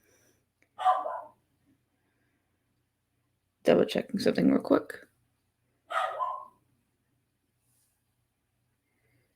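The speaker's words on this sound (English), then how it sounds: "Yeah, they're just barking the bark." Dogs at home bark in a few short bursts close by, mixed in with a person talking.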